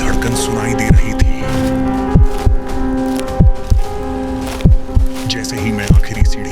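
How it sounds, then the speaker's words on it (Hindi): A slow, steady double-thump heartbeat used as a horror-story sound effect, loud and close, repeating about every second and a quarter over a low droning hum. "नीचे का सन्नाटा इतना गहरा था कि मुझे अपनी ही धड़कन सुनाई दे रही थी।"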